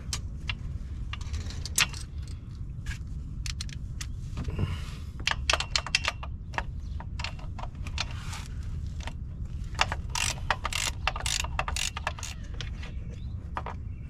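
Metal clicks and light rattles from a ratchet on a long extension as it works on a lower bolt of a BMW F10 clutch slave cylinder, a steady run of quick, close ticks over a low hum.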